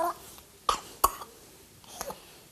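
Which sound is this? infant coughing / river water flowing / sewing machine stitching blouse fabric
infant coughing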